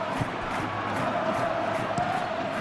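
A stadium crowd roars steadily in an eFootball match, a dense sustained wash of cheering and noise with no clear breaks.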